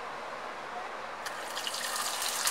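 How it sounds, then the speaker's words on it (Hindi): Ghee poured onto hot charcoal set in a bowl for smoking a mutton leg roast, giving a brief rising hiss and sizzle that swells up partway through, close and fairly loud. "अब हम इसके ऊपर थोड़ा सा डालेंगे घी"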